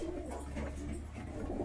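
Pigeons coo softly in a pigeon loft, a faint low murmur of calls running throughout the short stretch.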